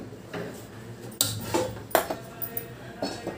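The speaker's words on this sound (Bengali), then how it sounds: "ওভেন ধরিয়ে আমি কড়াই বসিয়ে দিলাম।" A metal wok set onto a kitchen stove, heard as several sharp close clanks and knocks scattered over a few seconds against a quiet background.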